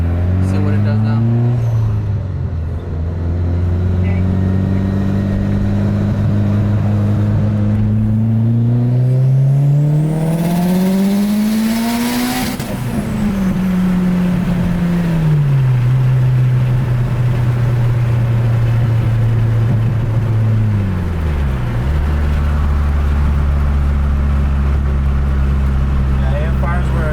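A turbocharged Mitsubishi Evo 9 making a boosted pull, with the engine tone rising steadily, dropping at a gear change, then climbing again before easing off, loud and close with someone talking over it.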